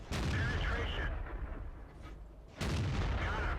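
T69 tank gun firing in World of Tanks, two loud booming blasts about a second and a half apart with a quieter rumble between them.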